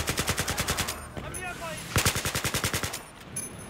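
Suppressed automatic gunfire in Battlefield 3, fired in rapid rhythmic bursts: a long burst, a brief pause with faint game sounds, then a second burst, loud and close throughout.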